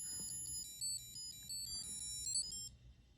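A 1994 Armitron Looney Tunes musical watch beeps out its theme melody in thin, high electronic tones, a quick run of notes over faint background hiss, ending abruptly.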